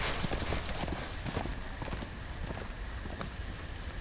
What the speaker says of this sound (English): Horse is spooked, bro.